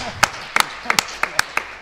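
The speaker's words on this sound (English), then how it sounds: "Now you can clap." A few scattered, separate hand claps ring out in an irregular rhythm, sharp and fairly close, like a small conference audience only starting to clap rather than full applause.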